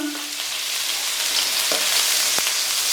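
Garlic hits hot cooking oil in a pan for ginataang kalabasa with chicken, giving a loud, steady hiss of frying with a few faint clicks and taps underneath, no voices.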